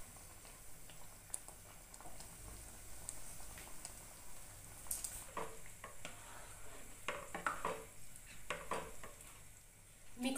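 Mushroom masala being stirred in a pan, a quiet scraping and clinking of a spoon against the pan over a soft sizzle, repeated in short uneven strokes.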